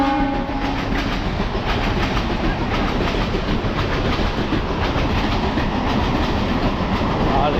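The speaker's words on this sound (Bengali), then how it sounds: "এই দেখো লোকাল ট্রেন পাসিং হচ্ছে বিধাননগর ওভারব্রিজে।" A local train rumbles steadily across the Bidhannagar overbridge, a loud continuous roar of wheels and carriages with faint clickety-clack running the whole time and no pause.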